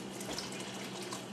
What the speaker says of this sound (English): empty out the boiling water